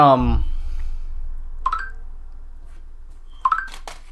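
A phone's notification tones sound twice, short chiming blips over a steady low hum, with a voice briefly heard at the start.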